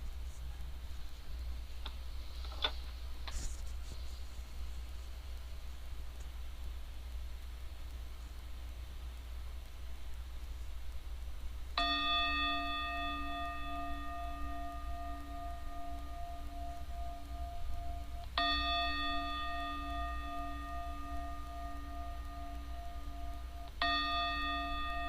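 A meditation bell rings three times during a quiet Dzogchen breathing practice, each clear metallic strike ringing out with a long, shimmering sustain over a low background hum, with soft faint taps early on.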